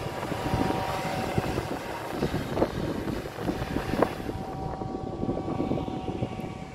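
Combine harvester working in a field where maize is being cut, a steady broadband rumble and rattle in the background with wind buffeting the microphone throughout.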